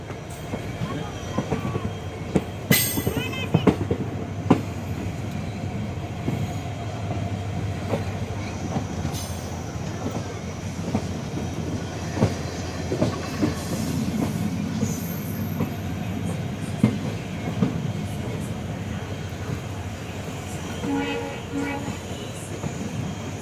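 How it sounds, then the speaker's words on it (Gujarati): The Okha-Bhavnagar Terminus Express runs on the Jamnagar-Rajkot line near Hapa station, making a steady rolling rumble with rhythmic wheel clatter. Occasional metallic squeals and sharp knocks cut through the constant noise. "આ ટ્રેન જે હાપા મસ્ત સ્ટેશનની અંદર આ મૂકવામાં આવે છે જે તમે જોઈ રહ્યા છો"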